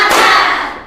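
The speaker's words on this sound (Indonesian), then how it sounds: "Tepuk tangan." A single loud hand clap, sharp and close, ringing briefly before fading.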